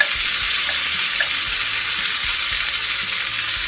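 Chicken pieces fry in garlic butter and lemon juice in a pan, giving a loud, steady sizzle with no talking.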